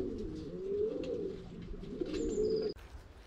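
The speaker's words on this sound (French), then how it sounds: "pigeons qui sont ici dans une grande volière" Low, rolling pigeon coos overlap continuously in a large aviary, close and fairly loud, with faint chirps and a brief higher tone near the end before a sudden drop.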